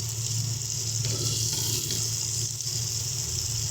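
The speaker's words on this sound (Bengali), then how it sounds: "খুব সামান্য একটু করে জল দেবো।" A little water poured into a pan of tangy mango and puti fish curry, heard as a steady, fairly loud rush that runs without a break through a few seconds, with no voices.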